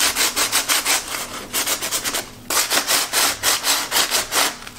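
Hand sanding of a table surface set with embedded Dollar Store gems: a rhythmic series of quick back-and-forth scraping strokes, close and fairly loud, with one brief pause midway before the strokes resume.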